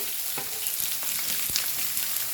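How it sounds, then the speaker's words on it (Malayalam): Onion and green chilies sauté in hot oil over a high flame, a dense, even sizzle with occasional light stirring taps, close and unbroken by speech. "സവാള ഹൈ ഫ്ലെയിമിൽ വെച്ച് തന്നെ നമുക്കൊന്ന് വഴറ്റിയെടുക്കാം"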